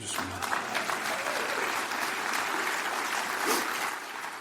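Applause from a conference audience at a clean and renewable fuels talk, a steady dense wash of clapping that holds for several seconds without a break, fairly loud and unbroken by talk.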